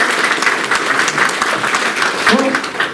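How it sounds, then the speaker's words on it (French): A church audience applauding a child, loud close clapping that runs steadily for three seconds with slight swells, and a brief voice near the end. "On peut l'applaudir."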